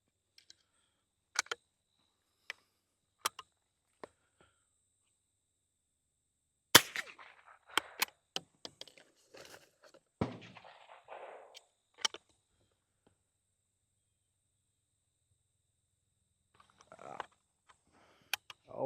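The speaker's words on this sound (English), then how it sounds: "So let's put some more rounds through it." Stevens Model 15-B single-shot bolt-action .22LR rifle being fired and handled, several sharp isolated cracks spaced seconds apart with clicks of the action in between, close and otherwise quiet.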